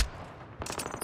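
Short burst of rapid gunfire in the video game Hunt for Makarov, a quick rattle of shots after a brief lull, fairly faint and with no talking.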